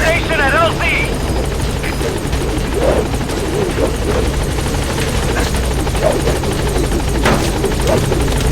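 A support helicopter arrives at a landing zone in Metal Gear Solid V: The Phantom Pain, its rotor giving a loud, steady thrumming drone. A voice speaks over it, with a brief electronic chirp near the start.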